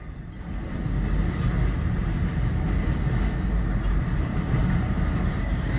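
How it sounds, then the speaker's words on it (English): Westbound BNSF Z freight train passing, moving from the Mo Valley sub onto the Columbus sub, with a loud continuous rumble of wheels and cars that swells in during the first second and then holds steady and close. "So that was the westbound Z train."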